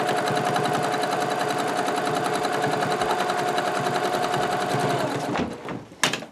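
A sewing machine quilts a woodgrain pattern, a fast, even, rapid stitching rattle running steadily for about five seconds before slowing and stopping with a few clicks and clunks, close and alone with no talk.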